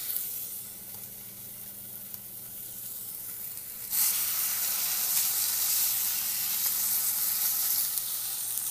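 Chicken breasts laid into a hot pan with about two spoons of olive oil, a soft steady sizzle that jumps louder and brighter midway and holds, close and alone with no voices.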